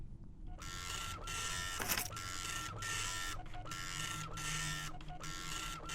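A printer in the video game Wasted churns through a job in regular mechanical bursts, whirring passes separated by brief pauses and one clunk, close and steady with no talk.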